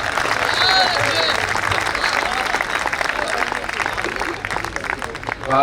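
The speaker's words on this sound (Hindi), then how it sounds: "तालियां जोरदार होनी चाहिए" Applause from the crowd at a Hindi comic poetry recital, a dense wash of clapping that rises and falls while voices talk and call out over it.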